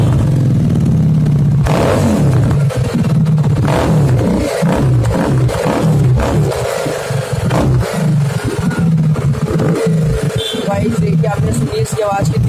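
Superbike engine revving at a market in Karol Bagh, New Delhi, a loud close engine with repeated throttle blips and rising and falling revs throughout.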